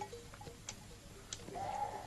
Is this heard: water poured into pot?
no